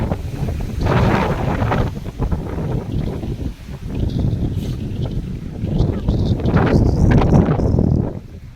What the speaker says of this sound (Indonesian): pintu rimba sedang badai guys. Badai hebat.